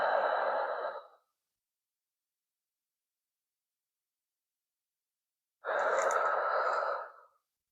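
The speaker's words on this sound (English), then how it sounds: "Breathe in through your nose and out through your mouth." Deep slow breathing up close, in through the nose and out through the mouth: one long breath fades away, then after several seconds of silence another full, breathy exhale follows, with no talking.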